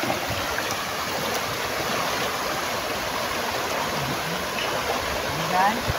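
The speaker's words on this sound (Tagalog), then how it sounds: "Parang dito normal na talagang sapa lang." A creek flows with a steady broadband rush of water, close and continuous, with faint voices briefly over it.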